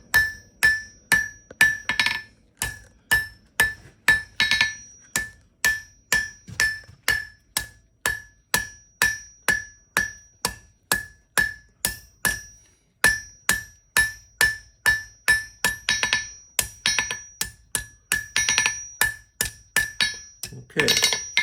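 Blacksmith forging a leaf for a leaf trivet with a flat-faced hammer: sharp metallic ringing blows struck in a steady, fast rhythm, dozens of close, loud strikes with brief pauses between bursts.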